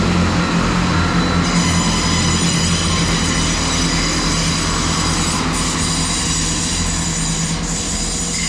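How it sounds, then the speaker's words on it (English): A Great Western Railway passenger train, the Cardiff Central to Salisbury service, moves through Bath Spa station with a loud, continuous rumble and high, steady wheel squeal close by. "the final now is going to be the 14:58 Great Western Railway service from Cardiff Central to Salisbury"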